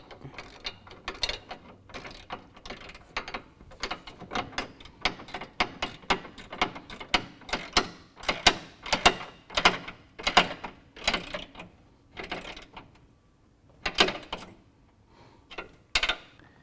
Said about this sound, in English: We can use an 11/16 to tighten down our brackets to our radiator mount.